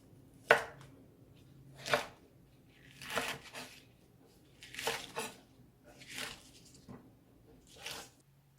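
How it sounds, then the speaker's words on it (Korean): Knife slicing green garlic stalks into roughly 5 cm lengths on a cutting board, about seven distinct crisp cuts spaced a second or so apart, close and fairly quiet. "마늘은 약 5cm 정도 길이로 잘라서 준비해 주세요"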